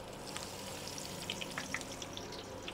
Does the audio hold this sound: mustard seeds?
yes